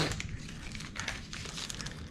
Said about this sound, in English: We'll just crumple it up real quick so it'll stay flat.